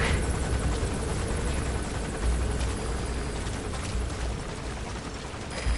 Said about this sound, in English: The chopper will be arriving any minute.